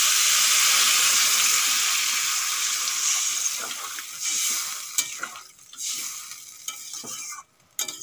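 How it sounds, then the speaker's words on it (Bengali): Water pours into a pan of cauliflower and potatoes fried with spices, a loud hissing sizzle that rushes up close then fades, broken by scattered clinks and scrapes as it settles. "এখন দিয়ে দেবো জল"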